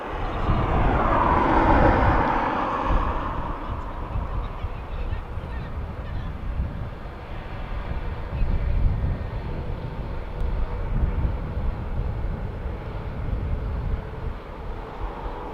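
Turkish Airlines jet departing Dublin Airport, a loud engine roar that swells early, then fades and rumbles on with a steady low wash, no one talking.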